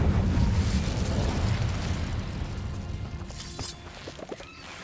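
The Incendio fire spell is cast in the video game Hogwarts Legacy, a loud roaring burst of flame with crackling that gradually fades, followed by a few sharp pops and sizzles near the end.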